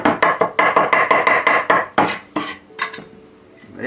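Garlic cloves struck and chopped with a knife on a board: a rapid, loud run of about a dozen even chopping knocks, then a few slower, scattered taps and a faint scrape near the end.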